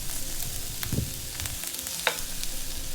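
Bell peppers and other vegetables sizzle and fry steadily in a pan for a Southern breakfast hash, with a couple of soft stirring scrapes and a brief clink partway through.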